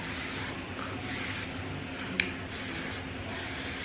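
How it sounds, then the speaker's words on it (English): A steady hiss of a hairspray aerosol runs for a few seconds with a brief click partway through, close and moderately loud. "I'm gonna spray them with some hairspray"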